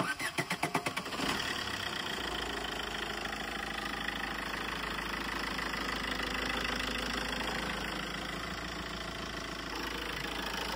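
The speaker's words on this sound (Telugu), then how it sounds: "ఒకసారి మన వెహికల్ స్టార్ట్ చేసి సౌండ్ చెక్ చేసుకుందాం." A 2011 Maruti Suzuki Swift Dzire engine cranks with a quick rhythmic whir, catches and settles into a steady, even idle that holds close and continuous to the end.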